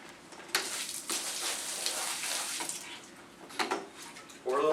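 Floor stripper liquid splashes and pours onto a floor during microfiber flat mop stripping, a steady wet wash with scattered louder splashes and a final gush close by.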